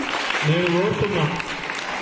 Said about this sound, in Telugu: ఆ బిడ్డకి చప్పట్లు కొట్టండి